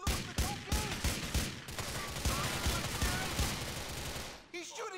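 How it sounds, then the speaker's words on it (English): Gunfire in Grand Theft Auto 4 as a cop is shot up: a rapid string of close, loud shots, then sustained automatic fire, with voices talking over it. "He's shooting up the cop"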